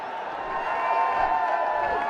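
A crowd of supporters at a Rangpur Riders vs Chittagong Kings BPL cricket match roars and cheers after a boundary, a steady, swelling wash of distant voices with no break.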